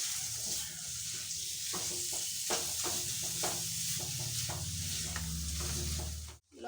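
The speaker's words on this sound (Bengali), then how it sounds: "তো এবার দিয়ে দিচ্ছি মাংসর কিমাটা" Minced meat frying in a pan with chilli powder, pepper and turmeric, a continuous hiss and sizzle punctuated by repeated scraping stirs, close and fairly quiet, ending abruptly.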